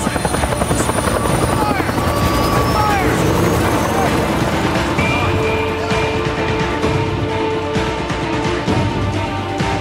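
Loud helicopter in the Days Gone video game, its rotor thudding and engine whine filling the scene continuously, close and dominant from start to end.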